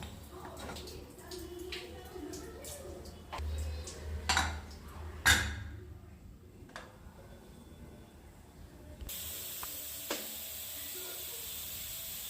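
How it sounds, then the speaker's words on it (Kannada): A pressure cooker holding chicken biryani lets out a loud, steady hissing whistle that starts about three-quarters of the way through and runs to the end. Before it come clinks of pots and utensils. "ಒಂದು ವಿಷಲ್ ಆಗಿದೆ"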